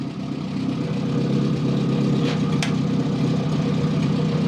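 A homemade tracked mini tractor's engine runs steadily at a low, rumbling idle as the clutch is let out in second gear, with a brief clank partway through and no talk.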